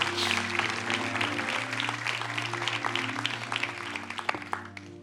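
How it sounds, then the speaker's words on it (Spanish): A church congregation applauds during a sermon, sustained broad clapping from many hands over five seconds with a steady low tone held underneath, fading slightly at the end. "Dele un fuerte aplauso a Dios por eso."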